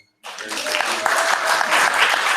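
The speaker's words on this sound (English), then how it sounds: "So a round of applause for that." Loud, dense applause from a large audience at a talk begins abruptly after a brief silence and holds steady throughout.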